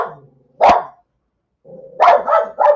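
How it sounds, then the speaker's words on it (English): A pet dog indoors barks loudly and close by: one sharp bark, a pause, then a quick run of three more, with a low whine between them. "I apologize for the dog barking."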